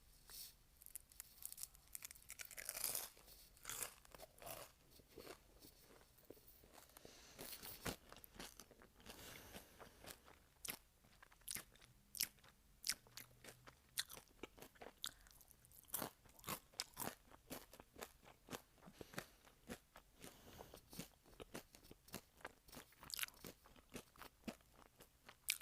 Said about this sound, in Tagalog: Fries and gravy. Fries are not that bad. Actually pretty crunchy today.